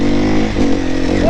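A four-stroke dirt bike engine revs loudly and close, its throaty note rising and falling in a short burst while a rider talks over it.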